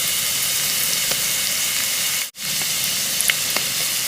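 Green chillies, curry leaves and turmeric powder fry in hot oil in a pan, a steady close sizzle that briefly cuts out for a moment midway, then resumes, with no talking.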